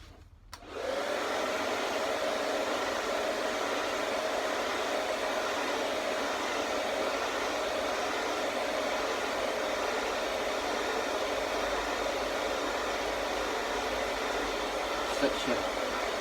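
A hair dryer used on moulded muscle arms switches on and blows steadily and loudly, a constant rushing whoosh with no other sounds.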